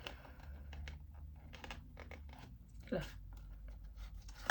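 Headphone cable being unwrapped from its packaging, with crinkly plastic rustles and short scraping handling sounds scattered through the clip, close up, under a woman's speech.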